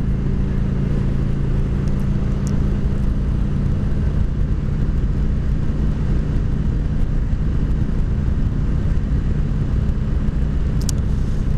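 Steady, loud engine and wind roar fills the whole stretch as a motorcycle rides along with a puppy aboard. The drone stays constant throughout, with no talking.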